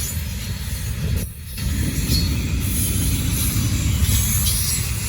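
A Norfolk Southern freight train rolls past near Charlotte, its wagons producing a loud, continuous rumble and rattle of wheels on rail, with a brief dip before the steady roar resumes and faint squeals above.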